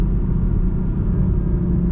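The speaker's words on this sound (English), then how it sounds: "not only does the B58 sound really good, but the burbles sound really good too" A 2021 Toyota GR Supra 3.0 with the B58 engine rumbles steadily and loudly close by, a dense low exhaust drone with faint crackling burble texture and no speech.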